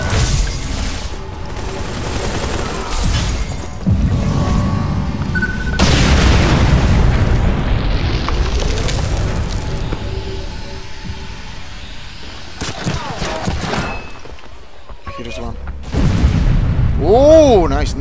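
A grenade blast in Ghost Recon Phantoms, loud booming explosions amid gunfire and game effects, with players talking over the action.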